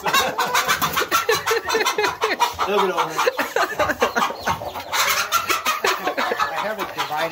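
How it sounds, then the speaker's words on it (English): Hens cluck and chatter inside a sectioned homestead chicken coop, a busy, close flock sound mixed with someone talking to the birds. "Hey, it's a chicken apartment right here."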